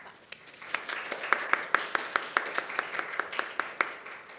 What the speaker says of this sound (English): Would you give our Year 4s and 5s another clap?